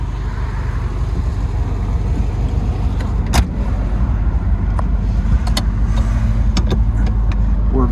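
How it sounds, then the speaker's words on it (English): Interior of a 1958 Volkswagen Karmann convertible on a road drive, its air-cooled engine droning steadily with road and wind noise throughout, a few faint clicks and rattles mixed in, no talking. "We're going to go for a test drive in this beautiful 1958 Volkswagen Convertible."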